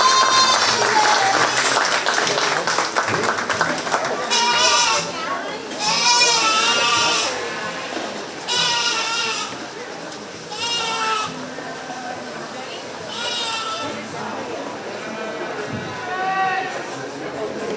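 Goats bleat again and again in wavering, nasal cries, several calls spaced a couple of seconds apart over a steady crowd murmur at a county fair 4-H meat goat show.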